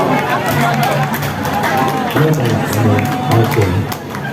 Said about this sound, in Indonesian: Tepuk tangan dulu yang meriah begitu.